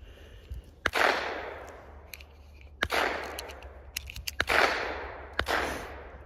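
Walther P22 pistol firing .22 long rifle rounds at steel targets outdoors: four sharp, loud shots spaced about a second or two apart, each followed by a ringing decay with faint metallic pings from the plates.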